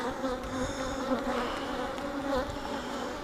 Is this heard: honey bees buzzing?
yes